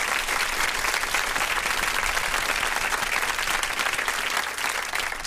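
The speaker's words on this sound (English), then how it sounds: "And this is my applause to all of you." Crowd applauding during a live radio stream, sustained loud clapping from many hands holding steady for several seconds with a slight dip near the end.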